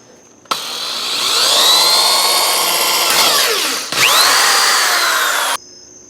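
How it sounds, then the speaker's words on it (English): A power drill bores holes in a car's floor plate. Its loud, close whine spins up, holds, dips briefly partway through and then revs back up before cutting off. No voices are heard over it. "I'm gonna drill through the floors over here now that I have the holes in the plate of the car"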